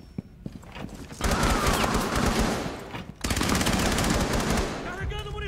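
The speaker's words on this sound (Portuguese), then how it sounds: "O cara tá atirando em mim aqui, ó." Rapid automatic gunfire fills a Rainbow Six Siege match in two sustained bursts, dense and loud, with brief pauses and scattered clicks around them.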